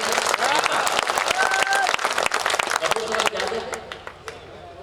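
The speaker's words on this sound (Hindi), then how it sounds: "जरा मर्दों की तरह ताली हो जाए अगर हो रही है।" An audience at a mushaira poetry gathering claps in a loud, dense burst that thins and fades toward the end, with a voice talking over the clapping.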